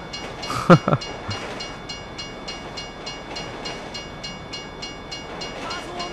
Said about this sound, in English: long does this train go on for?